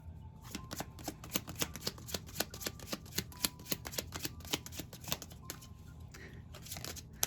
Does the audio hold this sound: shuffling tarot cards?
yes